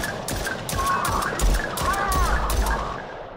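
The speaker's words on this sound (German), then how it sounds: "Das war mehr als 8 Schuss." Rapid bursts of gunfire in a video game, a string of sharp repeated shots in quick succession with whistling, warbling effects overhead, moderately loud and continuous.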